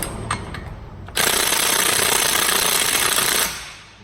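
Snap-on impact wrench hammering on the big CV axle nut of a 2007 Ford Fusion, a loud close rattling burst lasting a little over two seconds that then cuts off and fades, after a few faint clicks.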